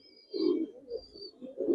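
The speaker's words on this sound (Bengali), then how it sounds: "ভাই এক জোড়া আর্মি কবুতর দেখাইতেছি ভাই" A pair of army pigeons gives soft, low, rounded coos up close, three throaty pulses within about two seconds with no other sound.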